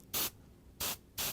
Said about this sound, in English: Just spraying a little globe of highlight down.